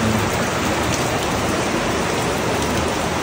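Heavy rain pouring down outdoors, a loud dense continuous roar of drops hitting surfaces, steady and unbroken with no one talking.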